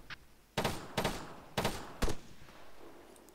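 Distant machine gun fire in a military video game, at about 800 meters: four sharp, fairly loud bursts in quick, uneven succession, then fading ambience.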